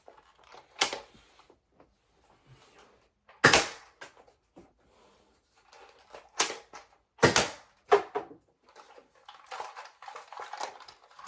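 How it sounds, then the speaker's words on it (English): An old Nerf N-Strike Element EX blaster firing suction cup darts gives a series of sharp clacking shots at irregular intervals, with fainter mechanical rattles and handling clicks between them, close and fairly loud. "It fired very well for an old end strike blaster."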